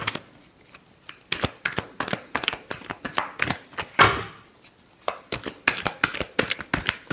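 Tarot cards shuffled by hand during a love reading, rapid riffling bursts and slaps repeating in quick clusters, close and crisp, with no talking.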